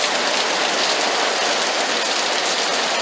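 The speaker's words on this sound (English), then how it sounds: "That's real rain in Vegas." Steady heavy rain falling in Las Vegas, a dense, even hiss of drops on surfaces with no pauses, loud and close throughout.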